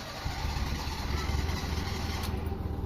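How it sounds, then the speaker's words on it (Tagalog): A Mitsubishi Lancer with a 4G13 engine that is hard to start: a steady, fairly loud low engine rumble running close by throughout, with no talk. "So start natin engine mga boss para malaman natin yung kondisyon ng makina ni sir."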